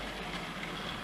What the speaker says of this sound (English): officially the first running train on Trewithen